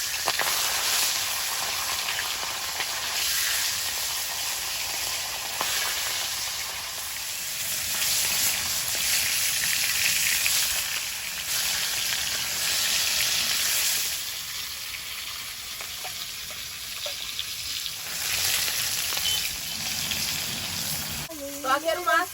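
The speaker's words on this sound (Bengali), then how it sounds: "তেলটা গরম হয়েছে এবার মাছগুলো এক এক করে দেবো" Thin, large-cut fish pieces fry one by one in hot oil in a wok, a continuous close sizzle and spatter that swells and eases, with a brief clatter at the end.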